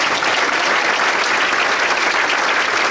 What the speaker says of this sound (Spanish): Démosle palmas muy fuertes.